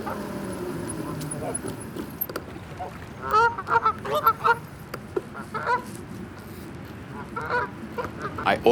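Geese honk beside a canal, loud and close in scattered bursts from about three seconds on, over a steady low rumble of an e-bike riding along the towpath.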